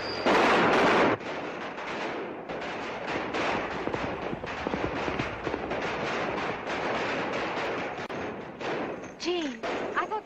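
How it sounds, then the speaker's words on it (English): Gunfire in a 1937 Western film, a rapid series of sharp shots and thuds of varying loudness over a soundtrack, with a voice briefly heard near the end. "I thought they were shooting at you"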